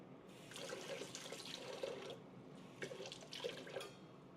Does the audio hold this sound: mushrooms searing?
no